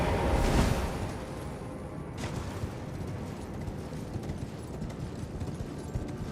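Horse galloping in the video game Elden Ring, a rapid rhythmic clip-clop of hooves with a heavier thud near the start, then steady running over a rumbling game backdrop.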